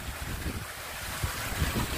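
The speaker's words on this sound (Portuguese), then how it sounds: "Então vamos conhecer um pouquinho dessa cachoeira?" A waterfall in the Araguaia river canyons gives off a steady, broad rushing roar, with low rumbling surges and wind buffeting the microphone.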